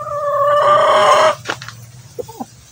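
A rooster crows loudly at a chicken coop in one long, sustained call lasting over a second, then a few short clucks and softer bird calls follow against a steady low background hum.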